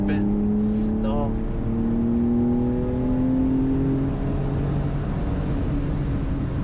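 A 2022 Porsche 911 Carrera engine sings steadily through a curve, a sustained rising and falling drone heard from inside the car over road noise, with a few brief tonal chirps early on.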